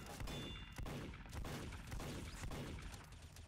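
Revolver gunshots in Team Fortress 2, several sharp reports fired at a steady pace amid busy game noise, fairly loud and close with no talking.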